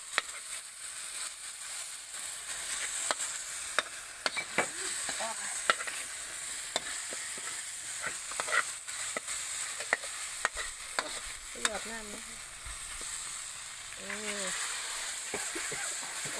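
Freshwater clams being stir-fried in a pan Isan style with fish sauce and oyster sauce, a steady sizzle with repeated scraping and clinking of the spatula against the pan, close by, with brief voices in the background.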